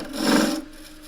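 A wood lathe tool cuts a taper on a jam chuck, producing a brief close scraping rasp that swells and fades over about a second.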